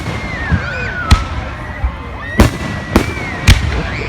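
Fourth of July fireworks burst at a camping weekend, several sharp booms arriving at uneven intervals over a steady background with faint voices and whistling tones.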